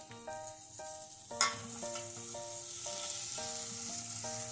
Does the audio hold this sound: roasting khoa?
yes